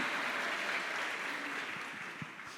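Congregation applauding during a church service, a steady broadband wash of clapping that fades slightly toward the end, with a few sharper isolated claps near the close.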